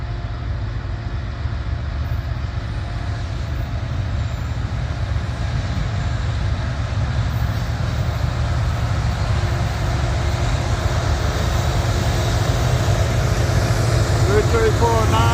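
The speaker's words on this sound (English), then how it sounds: "This is a southbound manifest freight." A southbound manifest freight train rolls past on the mainline, giving a loud, continuous low rumble and wheel roar that stays steady throughout. A voice talks over the noise.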